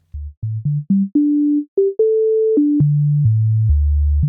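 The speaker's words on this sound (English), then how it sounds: "the sine wave has a very pure and smooth cycle" Pure, smooth sine tones from the Bitwig Grid synthesizer step upward in pitch through a series of short notes, then step back down to a low, sustained tone.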